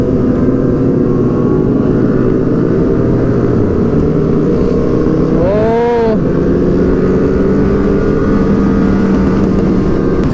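Several superbikes ride together in a group, their engines forming a loud, continuous droning roar throughout, with one brief rising and falling whine near the middle as a bike passes close by.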